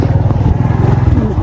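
A motorcycle engine idles close by with a steady, throbbing rumble as the bike is brought out, loud throughout with a faint clatter.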